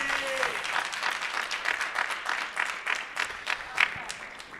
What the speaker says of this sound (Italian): quindi ovviamente un applauso